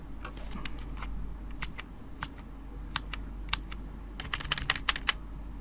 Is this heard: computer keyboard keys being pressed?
yes